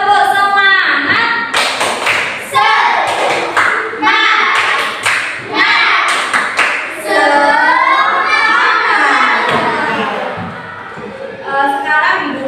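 In a classroom, children perform a 'tepuk semangat' spirit clap: rhythmic hand claps and taps mixed with chanted voices in a loud, lively sequence that fades slightly near the end.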